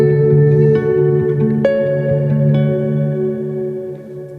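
Reverb pedal on an ambient pedalboard with the repeats knob at maximum: held guitar chords swell into a thick, loud, echoing wash with a heavier low end, and the notes blur together as they slowly fade.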